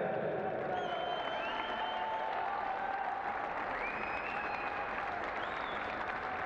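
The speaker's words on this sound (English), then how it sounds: "So a big round of applause for Swansea Schools FA." A crowd at an under-15 schools football trophy presentation claps steadily for the runners-up, a moderately distant, sustained applause with faint voices mixed in.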